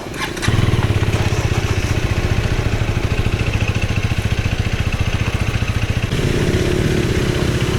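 A motorcycle engine runs steadily at a rough idle with a dense, fast pulsing beat, loud and close, as the bike readies to ford a dangerous river; a brief revving burst comes at the start.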